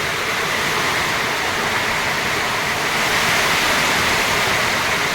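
Heavy rain pours down in a loud, dense, unbroken hiss, close by and steady throughout, with no voices.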